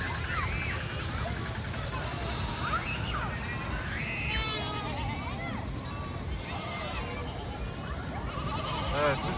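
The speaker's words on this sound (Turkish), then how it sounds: "ve Ankara keçisi" Angora goats bleating at a zoo enclosure, several wavering calls rising and falling over a steady crowd murmur and nearby voices talking throughout.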